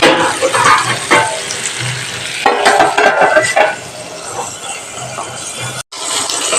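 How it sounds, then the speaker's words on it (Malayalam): Carrot curry with green chillies being stirred in a pan, with steady scraping and clinking of a spoon against the metal and a soft sizzle underneath, close and continuous with a brief gap near the end. "ഇത് നന്നായി പച്ചമുളക് പോണവരെ ഒന്ന് ഇളക്കി കൊടുക്കും"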